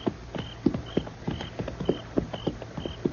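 Steady, rhythmic hoofbeats of a galloping horse in an old-time radio western drama, evenly spaced thuds repeating throughout, fairly close, with no talking.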